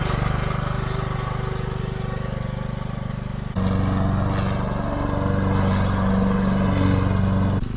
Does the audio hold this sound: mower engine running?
yes